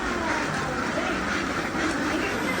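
Ducks quacking at a duck poultry farm, a dense continuous chorus of many birds close by with steady overlapping calls and no clear gaps.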